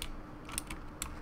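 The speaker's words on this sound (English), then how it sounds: "if you guys hear my keyboard" A computer keyboard clatters in quick, continuous keystrokes, close and moderately soft, with a few slightly sharper clicks standing out and no talking.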